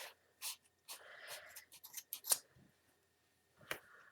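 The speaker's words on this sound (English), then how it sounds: "slip your scissors in and cut" Scissors snip through craft card in a few separate cuts, short crisp bursts spread across a few seconds with pauses between, close and fairly quiet, no talking.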